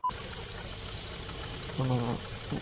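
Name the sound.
water draining from a tractor tyre while inflating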